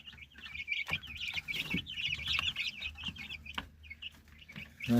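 A flock of one-month-old chicks peeps in dense, overlapping high chirps while roosters and hens cluck below, with occasional knocks and shuffles nearby, fairly quiet and unbroken, no talking.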